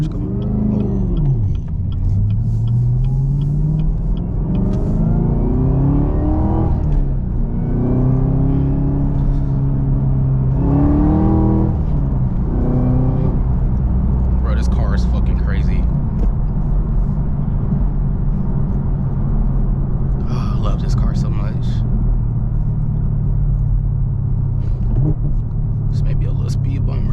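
A stock Chevrolet Camaro ZL1 with a six-speed manual revs while being driven, its engine note rising and falling in repeated pulls with a deep, loud rumble heard from inside the car.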